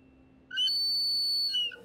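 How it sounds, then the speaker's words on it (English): A toy dinosaur whistle gives one steady, piercing tone lasting just over a second, loud and near, with a quiet hum beneath and no voices. "A dino whistle."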